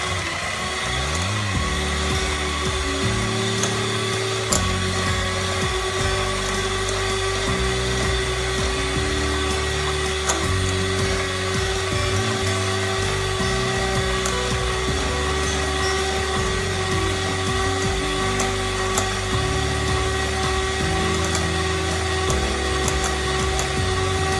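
An electric kitchen mixer beating honey cake batter whirs continuously with a steady high hum and rough churning underneath, loud and close throughout.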